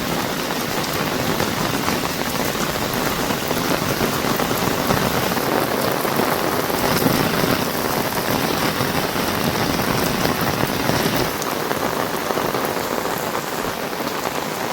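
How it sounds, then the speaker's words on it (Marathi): Heavy rain pouring steadily onto farm fields in a village, a dense unbroken hiss of drops close by, with no voices. "पावसाने पुन्हा एकदा जोर धरला आहे"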